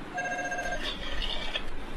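A telephone rings with an incoming call, thin repeated electronic ring tones sounding close amid light background noise.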